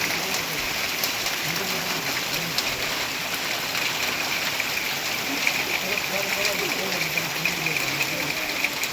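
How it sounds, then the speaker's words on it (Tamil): Steady storm rain with wind patters and hisses throughout, a dense wash of droplets with faint voices murmuring underneath. "மழை விடுற மாதிரி தெரியுது"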